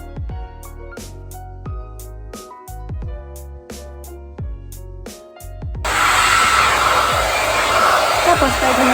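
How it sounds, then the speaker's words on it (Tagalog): A handheld hair dryer is switched on during a makeup and hair routine, cutting in as a loud, steady blowing roar after several seconds of plucked background music. "Gamit ko naman tong hair dryer ko."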